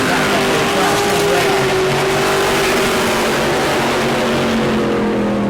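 Race cars roar around the New Smyrna track during a heat race, a loud, steady engine drone with shifting pitch as cars jostle for position just after the start.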